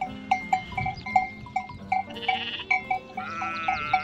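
Lambs on a Turkish sheep farm bleating repeatedly in short, overlapping calls, fairly close, with a faint clank like a bell in the background.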